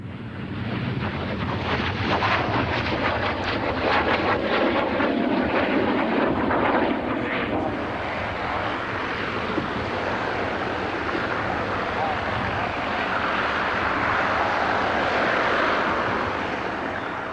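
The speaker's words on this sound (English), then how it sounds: "This one's a Polish license-built version, the LIM-2, built in 1956." A Polish licence-built LIM-2 MiG-15 jet fighter from 1956 flies past at an airshow, a broad, roaring jet rush that swells and fades under heavy wind noise on the microphone.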